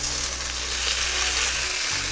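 Tomatoes sizzle and fry loudly in a hot pan for chicken kofta curry, giving a steady, close crackling hiss throughout.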